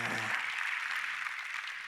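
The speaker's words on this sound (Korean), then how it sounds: "마더와이스 팀 박수해 주시기 바랍니다" A church congregation at a Friday worship service claps for the worship team, a steady dense wash of applause that begins with a brief voice and then carries on alone.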